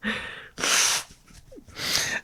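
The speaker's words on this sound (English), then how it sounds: "I got to blow my nose." Nose blowing: two loud, breathy bursts of air through the nose separated by a short quiet gap with a small vocal sound, close to the microphone.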